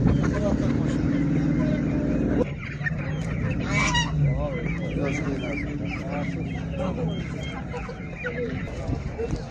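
Geese, ducks and other fowl at a livestock market in Mashtaga, Azerbaijan, honk and squawk steadily through a busy crowd, with a loud honk near the start and many people talking throughout.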